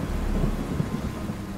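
Steady heavy rainfall with a low rolling rumble of thunder fills the whole stretch, a dense unbroken wash of noise with no voices.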